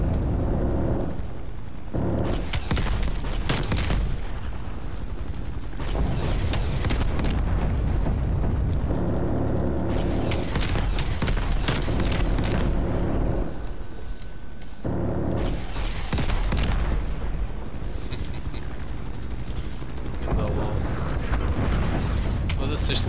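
An Apache helicopter simulator game produces loud, dense bursts of gunfire and booming explosions, with rumbling blasts that recur and overlap across about twenty seconds over a constant engine hum.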